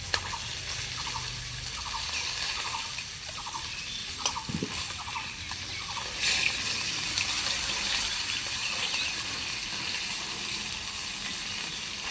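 Chital fish frying at medium heat in a pan of oil, a steady close sizzle with a brief louder burst midway, heard alone with no talking.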